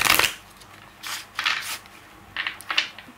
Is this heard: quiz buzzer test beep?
no